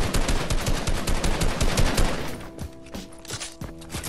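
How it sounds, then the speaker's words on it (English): Rapid bursts of automatic gunfire from a Fortnite match crackle loudly and continuously for about two seconds, then give way to scattered single shots and clanks against a busy game background. "Shoot him down"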